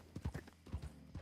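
Horse hooves clip-clopping in the video game Westhaven, a quick, faint run of rhythmic hoof beats with no talk over them.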